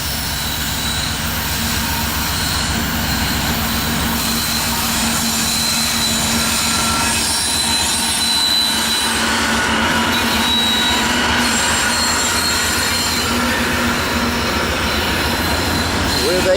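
Norfolk Southern manifest freight train led by three Dash 9 locomotives rolls steadily past, a loud continuous rumble of engines and rail cars with squealing wheels throughout, no voices.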